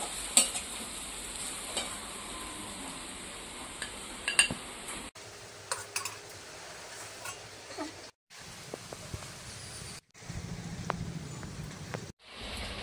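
A spoon stirs mankochu paste frying in oil in a pan. The soft sizzle is steady, and metal scrapes and clinks against the pan come in short bursts with brief pauses between them.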